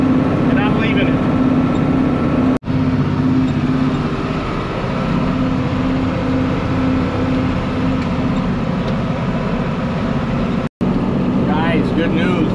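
Steady farm engine held at a little over 2,000 RPM, a continuous loud drone with a strong tonal hum, running throughout with brief cutouts; faint voices sound in the background.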